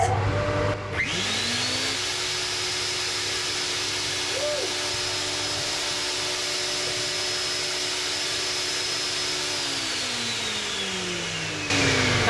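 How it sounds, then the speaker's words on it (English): A dust extractor starts up with a sharp onset and runs as a steady, droning whine beside a Lumberjack PT254H helical planer thicknesser, holding a constant pitch for several seconds before spinning down near the end; no talk. "So on with the extractor."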